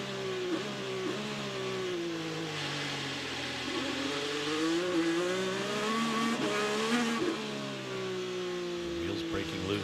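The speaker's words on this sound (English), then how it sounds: "You hear him short shifting here, grabbing gears early, trying to keep the power in that sort of tractor range of the power band" Onboard an IndyCar at the Honda Indy Toronto street race, the engine revs rise and drop in quick, early upshifts. The engine whine stays steady and fairly close, with a faint commentator voice underneath.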